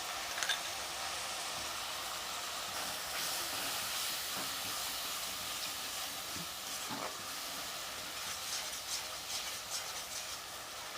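Chilli chicken sizzling loudly in a hot pan as tomato sauce goes in, a steady dense hiss and crackle throughout with no talk.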